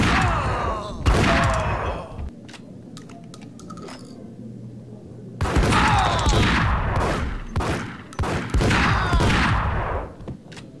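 Volleys of gunfire from the Max Payne video game come in several clusters of rapid shots with thuds between them. The bursts are loud and close, separated by a quieter gap.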